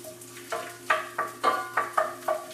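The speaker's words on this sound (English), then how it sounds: "you can hear there's a little bit of a sizzle, but we're not trying to brown these off too much" Onions caramelize in a pan for homemade pizza sauce, a gentle sizzle broken by repeated stirring scrapes and soft clinks, about eight bursts in quick uneven rhythm, close up.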